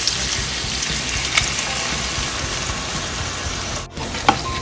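Pork frying with moringa in a pan as soy sauce goes in: a loud, steady sizzle with faint clicks of stirring, briefly dipping near the end before crackling on.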